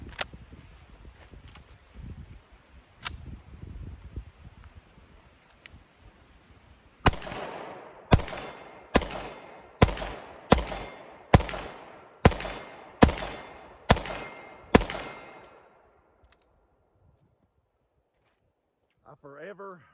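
A SIG Sauer P229 Legion pistol fires a string of about ten sharp, loud shots at a steady pace outdoors at a 40-yard target, each crack trailing a brief echo, followed by quiet and a faint voice.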